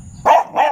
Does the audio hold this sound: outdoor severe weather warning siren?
no